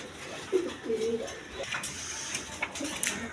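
A pair of pigeons with two chicks coo in low rolling phrases, a couple of close calls early on and softer ones later, over a noisy background.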